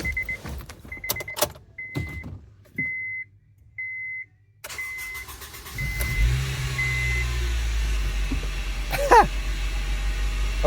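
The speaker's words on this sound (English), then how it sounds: "that's probably about where it should idle on a cold start" A Honda Civic Si EP3 being revived as a rally build sits idling on a cold start with a low, steady rumble. A string of beeps and clicks comes first, and the engine then fires into a continuous drone.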